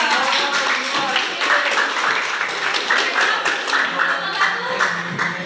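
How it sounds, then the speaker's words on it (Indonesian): Students in a classroom at SMA Muhammadiyah 2 Palembang applaud group 2, a lively, steady patter of many hands clapping close by for several seconds. "beri aplaus untuk kelompok 2"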